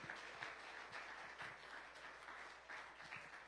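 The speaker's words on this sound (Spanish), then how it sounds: "Yo creo que Él merece un aplauso fuerte en esta tarde" A church congregation applauding, a steady wash of many hands clapping together, somewhat distant and faint, carrying on evenly throughout.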